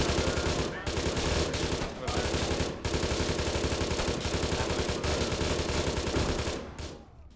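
Heavy sustained automatic gunfire in ArmA 3 combat, dense rapid bursts filling the scene with only brief breaks, loud and close, trailing off at the end.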